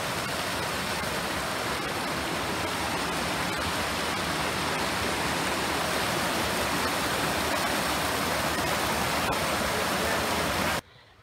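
A creek rushes beside the Bells Canyon trail near Salt Lake City, Utah, a steady loud broadband wash of flowing water filling the whole stretch before cutting off abruptly at the end.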